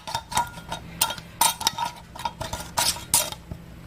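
Metal canning lid and band clinking and scraping onto a glass jar of home-canned chicken soup, a series of quick close taps and rattles over about four seconds.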